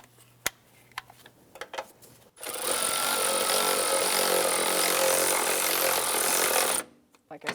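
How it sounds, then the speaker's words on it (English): An electric ratchet snugs down 15mm nuts on the front shock and spring assembly of a 2015-2020 Cadillac Escalade, a loud, steady whirring burst of about four seconds after a few scattered clicks and clanks. "Now with my electric ratchet or by hand, I can snug these up, just going to bottom them out."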